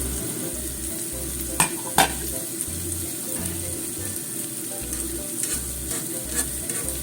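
Cabbage pan-frying over medium heat, a continuous soft sizzle with a few faint clinks and knocks, close and moderate, with no one talking.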